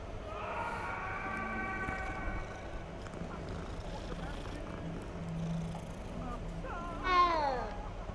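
A cat in the video game Hogwarts Legacy lets out a drawn-out meow early on and a short, rising-then-falling meow near the end, both fairly faint over low ambient game background.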